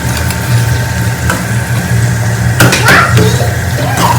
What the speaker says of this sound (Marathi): बघू शकता मस्त कांदा इथे फ्राय होतोय